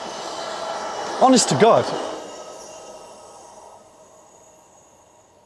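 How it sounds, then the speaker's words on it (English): A train passes a railway line, its broad rumble fading steadily into the distance. A person speaks briefly over it partway through. "I hear one more train."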